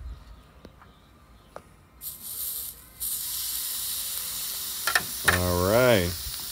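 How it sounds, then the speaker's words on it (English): A steak hits the hot Ooni Grizzler plate from an Ooni Koda 16 pizza oven and sets off a sudden loud steady sizzle, followed by a voice speaking over the hiss. "And then we're going to put the steak on."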